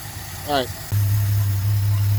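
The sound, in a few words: car engine idling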